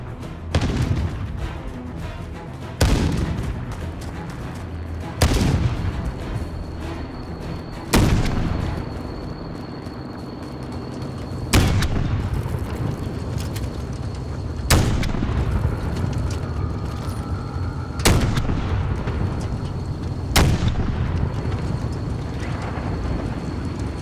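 Grenade explosions and gunfire in a war video game, with booming blasts landing every few seconds, about eight in all, each followed by a decaying rumble over a steady bed of battle noise, with no talk.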